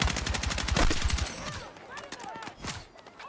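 Rapid bursts of AK rifle fire in the shooter Counter-Strike 2, a loud close rattling volley that breaks off, then scattered shots and game effects, with a voice speaking briefly alongside.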